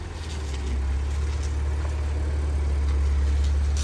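A used car's engine running, a steady low rumble with a constant hum that swells slightly after the first half second and holds even, close by with no talk over it.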